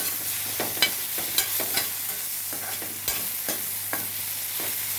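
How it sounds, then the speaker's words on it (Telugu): Food frying in a pan is stirred with an irregular run of scraping clinks over a steady sizzle, close and fairly loud, with no voices. "చక్కగా ఇంకోసారి కలుపుకుందాం"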